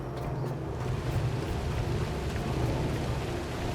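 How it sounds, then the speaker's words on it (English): Steady rain falls in the video game The Last Caretaker, a dense, even hiss with a low rumbling undertone that holds at constant loudness throughout, with no voices. "and then all of a sudden, raining."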